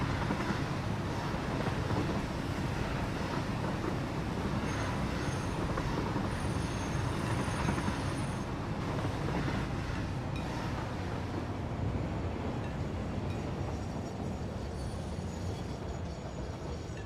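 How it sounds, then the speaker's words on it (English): A train in a factory-building video game rumbles along in a continuous dense roar for the whole stretch, steady and unbroken, with a faint high squeal partway through and no speech. "Quick little train ride before switching over to the other save again."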